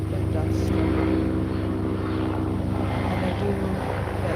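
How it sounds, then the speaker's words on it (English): Helicopters flying overhead near a coastline make a steady, loud, continuous engine and rotor drone that holds for several seconds with no break. "Sorry, we got a lot of helicopters."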